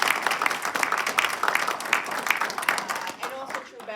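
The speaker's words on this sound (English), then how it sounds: "just another round of applause for him" An audience at the Waterford Library centennial event claps for a presenter, a brief burst of fairly loud, uneven applause that thins out toward the end.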